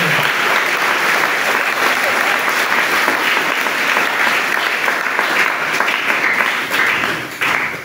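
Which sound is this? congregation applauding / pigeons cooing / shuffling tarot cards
congregation applauding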